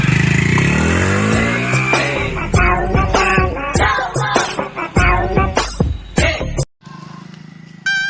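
A motorcycle sets off carrying a passenger, its engine revving up in rising pitch and then chugging roughly as it rides away, loud and close before cutting off suddenly.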